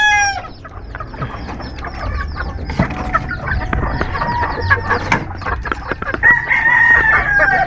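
Several chickens cluck and call close by, with a rooster-like crow toward the end, a busy continuous farmyard chorus with no talking.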